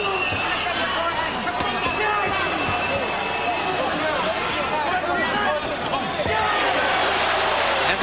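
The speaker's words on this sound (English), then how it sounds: "And the crowd cheers mightily" A boxing arena crowd at a world featherweight title fight cheers loudly around the ring, a sustained roar under a commentator's continuous talk, with thuds and ring activity mixed in.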